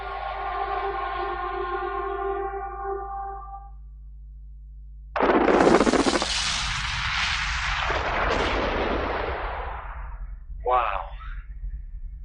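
A massive blast from 180,000 tons of explosives at an open-pit gold mine, a sudden loud roaring boom that rumbles on for several seconds and fades, following a steady tonal hum.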